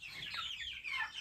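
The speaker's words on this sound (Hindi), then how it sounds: "ये चिक्स है" Chicks (baby chickens) in a cage peep and cluck softly in a continuous high chatter, close by, with no talk.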